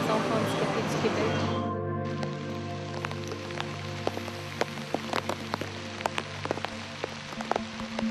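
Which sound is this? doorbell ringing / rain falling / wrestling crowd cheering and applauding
rain falling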